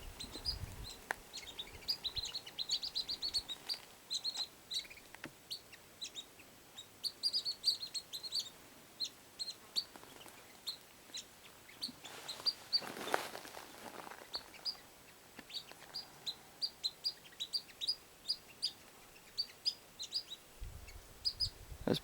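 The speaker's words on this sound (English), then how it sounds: "Look like little finches." Small finches chirping outdoors, a steady scatter of quick high tweets and short calls repeating throughout at moderate distance, with no voices.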